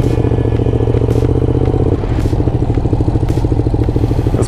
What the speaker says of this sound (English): this is the Ducati Diavel on dirt.